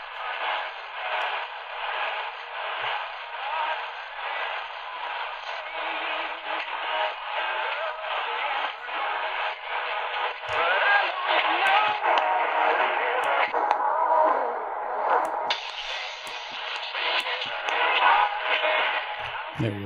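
Tecsun PL-380 portable radio receiving MW station WHFB from Benton Harbor, Michigan, about 95 miles away, with a loop antenna: band-limited, static-laced broadcast audio with faint voice and music, shifting in tone as the signal changes.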